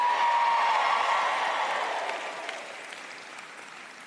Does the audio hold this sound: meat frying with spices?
no